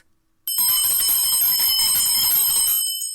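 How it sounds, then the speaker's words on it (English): A bell rings out alone, a bright sustained metallic tone that starts sharply after a brief silence, holds loud and steady for over two seconds, then cuts off. "You cannot unhear this bell."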